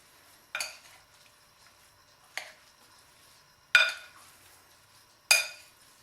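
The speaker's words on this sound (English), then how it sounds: "now we're going to mix everything together, our quinoa and our vegetables" Quinoa and vegetables being mixed together for a quinoa spinach salad, heard as four separate scraping, clinking stirring strokes spaced a second or two apart, close and fairly quiet with near silence between them.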